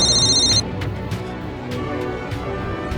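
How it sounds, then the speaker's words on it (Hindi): Telephone ringing in a tense police-drama scene, a loud electronic ring burst at the start that cuts off after about half a second, followed by quieter room noise. "राणा साहब, आप चिंता मत करिए, फोन उठाइए, आपकी हर कॉल कंट्रोल रूम में ट्रेस की जा रही है।"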